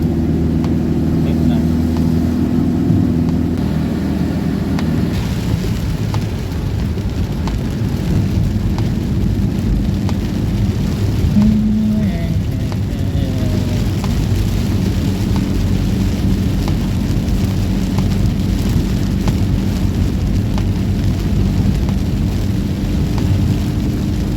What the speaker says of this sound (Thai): เจอฝนเลยครับ ไม่หนักเท่าไหร่